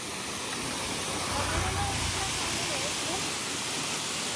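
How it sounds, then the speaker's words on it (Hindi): Waterfall on the Narmada flowing in summer, a dense continuous rushing hiss of falling water, close and steady throughout. "देखो झरना चल रहा है भाई,"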